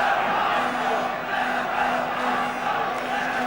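Liverpool supporters at the 1971 FA Cup Final against Arsenal fill a stadium with a steady, sustained roar of crowd chanting and noise, dense and continuous without a break.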